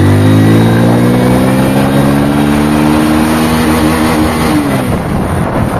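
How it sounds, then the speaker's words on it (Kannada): A Hero HF Deluxe motorcycle accelerates in second gear, its loud, close engine droning steadily as the note climbs gradually in pitch, with no talk over it. "ಫಸ್ಟ್ ಗೇರ 30 ಹೋಗುತ್ತೆ ಗುರು, ಫಸ್ಟ್ ಗೇರ್ 30, ಸೆಕೆಂಡ್ ಗೇರ್ ಗುರು."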